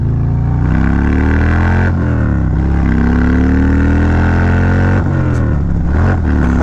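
A Harley-Davidson Road Glide with a 107 engine and aftermarket exhaust accelerates hard, its deep, loud rumble climbing in pitch through several gear changes with brief dips between shifts, close and continuous.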